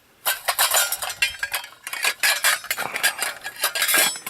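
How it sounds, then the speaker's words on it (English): Metal camping-stove pots and a lid clatter and clink close up, with a string of sharp bright knocks and rattles as the lid is set onto the nested pot. "you put your lid on"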